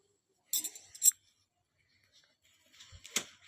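Husk leaves are pulled off a half-opened sweet corn cob at home, giving two short bursts of crisp tearing and rustling, close and alone, separated by a quiet gap.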